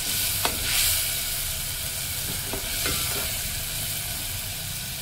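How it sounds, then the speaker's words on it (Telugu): Food frying in oil in a pan for a shrimp and okra curry makes a quiet, steady sizzle, with a few soft stirring scrapes and clinks. "నూనెలో వేగాలి."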